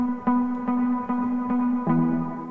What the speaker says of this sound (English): It's kind of adding like a chorus effect kind of to it.